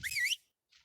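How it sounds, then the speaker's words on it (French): A short, bright warbling whistle in the video game ARK: Survival Evolved sounds, followed after a brief pause by a faint, softer tone. "Une créature a entendu votre sifflement."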